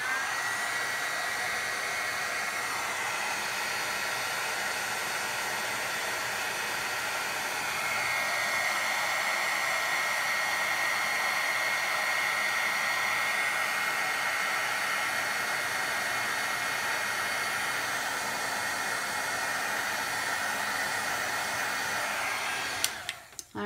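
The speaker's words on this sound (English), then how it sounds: "you're going to slowly move your heat tool back and forth over the powders" A heat embossing tool blows hot air steadily over embossing powder, making a continuous loud whooshing hiss that runs close and unbroken for over twenty seconds before clicking off.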